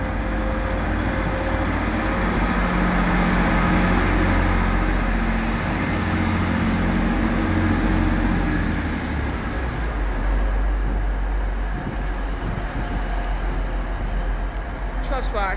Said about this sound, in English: Transpennine Express leaving Manchester Airport, and that's going to Cleethorpes